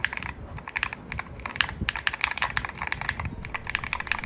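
Rapid, close typing on a Hex 80 mechanical computer keyboard, with crisp clacking keystrokes in a busy, uneven rhythm and no talking.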